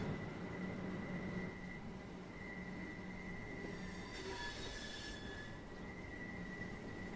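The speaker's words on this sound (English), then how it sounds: "Hear the squealing of the wheels as we come into the station." Train wheels squeal in the Train Sim World 6 video game as a train pulls into a station, a sustained high metallic whine over a steady rolling rumble, with a brief brighter screech partway through.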